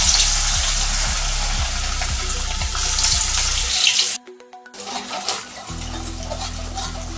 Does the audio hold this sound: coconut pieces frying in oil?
yes